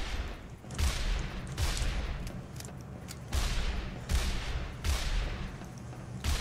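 Repeated bursts of gunfire from the video game Team Fortress 2, a handful of loud blasts and rattling volleys coming at roughly regular intervals over a noisy background, with no talk.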